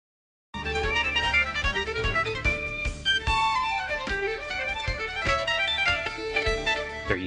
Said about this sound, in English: We're going to try Vivaldi played by a 1960s rock band with no vocals.